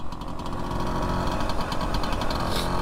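An old naked sport scooter engine running close by, a loud steady mechanical chug with a rapid knocking pulse and vibration, no speech.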